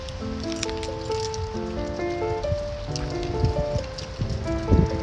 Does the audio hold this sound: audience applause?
no